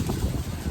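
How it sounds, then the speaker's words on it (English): Wind under a bridge in Florida buffets the microphone in a brief, low rumbling gust that muffles everything else. "really windy under this bridge here."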